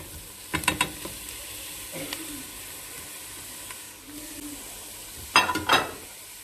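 Soft sizzling under scattered metallic clinks and scrapes of meatballs frying in a steel pot, with brief louder clattering bursts.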